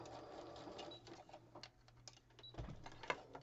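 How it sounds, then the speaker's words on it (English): A sewing machine stitches along the edge of a paper page, a faint, soft mechanical whir with light ticking, quiet and close, with no talk. "it's a stitch that's on the sewing machine"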